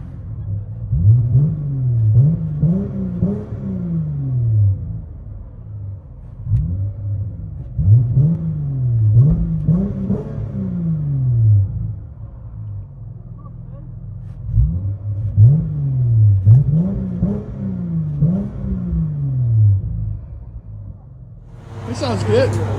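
Heard from inside the cabin, a Dodge Challenger SXT/GT with a 3.6L V6 and aftermarket exhaust revs in three repeated bursts, with a deep exhaust note rising and falling between quieter idle stretches.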